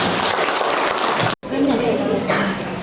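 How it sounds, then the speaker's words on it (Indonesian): Applause for a group of primary schoolchildren during a school visit to the Samudra Pasai Islamic museum, a steady clatter of clapping from a room full of people that runs for nearly three seconds, breaks off briefly and then resumes. "Tepuk tangan dulu untuk kelompok 1 dulu."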